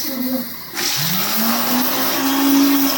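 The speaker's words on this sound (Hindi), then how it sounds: "अब मिक्सी की आवाज़ है, शायद मेरी आवाज़ दब रही हो क्योंकि मिक्सी चल रही है" A mixer grinder whirs loudly and steadily, a continuous high-speed motor roar that fills the whole clip.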